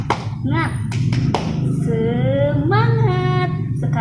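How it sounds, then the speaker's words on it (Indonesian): Spirited rhythmic clapping from a teacher leading a classroom-style 'tepuk semangat' cheer, a few sharp claps early, then voices singing or chanting along over a steady background. "Siap, tepuk semangat."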